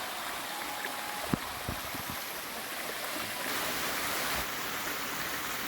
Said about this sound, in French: là on est au départ de la cascade en fait